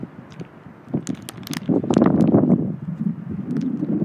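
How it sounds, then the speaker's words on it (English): Gusts of wind buffet the microphone in uneven bursts, rumbling and crackling, rising in the middle and staying rough to the end. "It's so windy."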